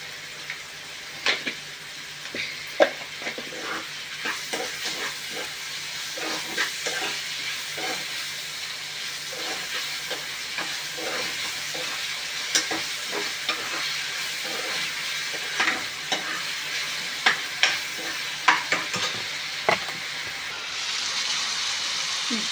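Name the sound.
onions frying and being stirred in a pan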